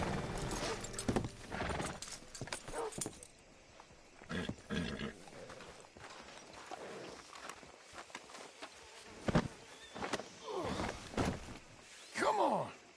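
Horse hooves clip-clopping with an occasional whinny in Red Dead Redemption 2, scattered through a busy game soundscape of insect buzz and ambient noise, with voices talking intermittently.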